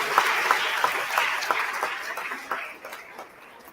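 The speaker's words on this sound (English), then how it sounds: "A standing ovation and a huge round of applause" An audience at a school health fair gives a standing ovation, dense clapping that starts loud and full, then gradually thins and fades over a few seconds.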